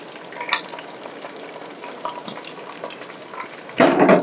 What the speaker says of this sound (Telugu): పచ్చిమిర్చి, పుదీనా కూడా తాలింపులోనే వేసుకోవాలి.